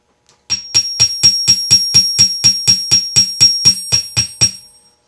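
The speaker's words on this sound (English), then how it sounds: "That's the sound of me hammering out some solder to be a really thin ribbon." Hammering solder into a thin ribbon during saxophone repair on an old Selmer, about fifteen evenly spaced metallic strikes with bright ringing overtones, close and steady, alone.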